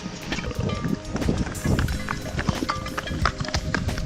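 A horse's hooves clop unevenly on hard ground, with scattered knocks and rustling nearby, plus faint wind and occasional voices in the background.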